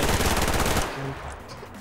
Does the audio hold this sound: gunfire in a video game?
yes